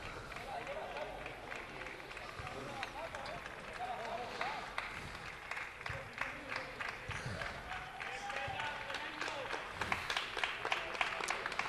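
A football crowd at La Fuensanta stadium applauds a substituted player as he leaves the pitch, sounding as a faint, distant, sustained patter of clapping beneath a commentator's voice.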